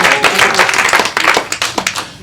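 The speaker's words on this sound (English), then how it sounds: "Give him a round of applause." Applause at a formal gathering: a smaller group's clapping, loud and close, with distinct individual claps in an uneven rhythm over about two seconds.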